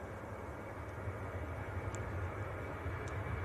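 A Ryanair jet getting airborne at Manchester Airport, a faint, distant low engine rumble holding steady with a few small ticks on top.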